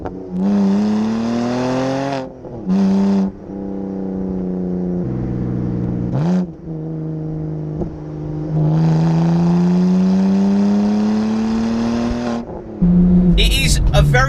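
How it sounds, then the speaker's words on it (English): A 2005 BMW 130i with its 258 bhp six-cylinder engine sings a steady, rising and falling note while driving, loud and close, with brief gaps and a short burst of other noise near the end. "It sounds fantastic, like an old school BMW."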